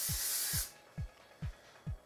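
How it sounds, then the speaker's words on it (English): Hairspray hisses in a soft, close burst before fading, followed by a few faint, evenly spaced low thumps. "Grab some hairspray"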